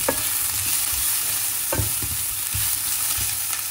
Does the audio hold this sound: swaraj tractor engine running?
no